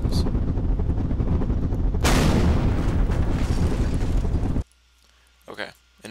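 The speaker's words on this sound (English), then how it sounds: "you could weld these rockets to your aircraft, and when you fire them, they automatically detach themselves" Rockets welded to a small fin plane fire off in a building game, a dense roaring blast that swells into a rushing burst, then cuts out abruptly to near silence with faint brief noises.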